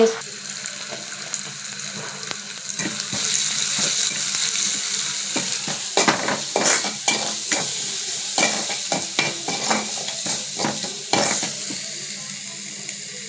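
Chopped tomatoes with salt, turmeric, chili and coriander powder frying in a pan, a steady loud sizzle with repeated scraping stirs running throughout.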